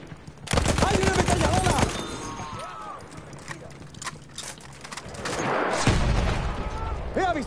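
Battlefield 1 machine gun fire crackles in rapid bursts amid battlefield noise, mixed with voices shouting over the shooting.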